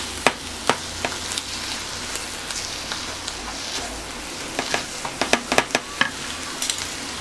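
Thawed spinach cooks in a pan with a steady, close sizzle and frying crackle, punctuated by scattered sharp pops and spatters, with no talk.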